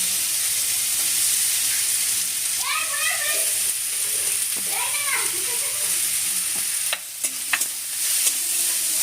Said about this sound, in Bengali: সেই পটলের দানা কটা তেলের মধ্যে দিয়ে দেবো দিয়ে একটু ভালো করে আগে ভেজে নেবো পটলের দানাটা